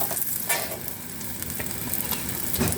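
Sweet potato cutlets frying in oil in a pan as they are turned to cook the other side, a close, busy sizzle with bursts of spatter and scraping stirs.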